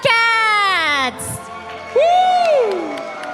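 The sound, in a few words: team members cheering at esports grand finals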